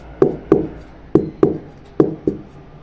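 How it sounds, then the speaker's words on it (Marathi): Six sharp taps of a cake pan holding Oreo biscuit cake batter on a hard surface, in pairs at a steady pace, close and clear. "हे भांड आहे ना असं थोडंसं टॅप करून घेऊया"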